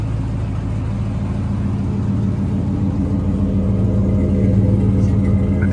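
A squarebody truck's engine burbles through a Flowmaster exhaust with a steady, loud, close rumble, building slightly toward the end without a break.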